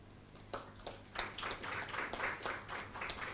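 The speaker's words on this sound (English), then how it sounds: "Let's give him a round of applause as he makes his way to the stage." An awards breakfast event audience breaks into applause, beginning with a few isolated claps before swelling into a steady, moderately distant round of clapping.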